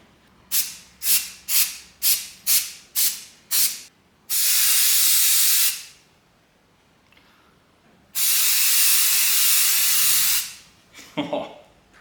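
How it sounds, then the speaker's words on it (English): Aerosol can of Bullseye 321 white primer sprays a lure: seven short rhythmic bursts, then two long steady hisses, loud and close, ending with a few small clatters. "Coming in with the Bullseye 321 primer."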